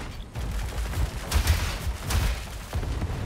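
Rockets fire in the video game War Robots Frontiers as a few rapid whooshing, crackling volleys over a low rumbling background, close and fairly loud.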